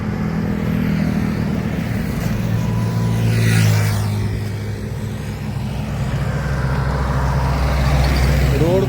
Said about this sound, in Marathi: एवढे वाहनं चालतात या रोडवरती.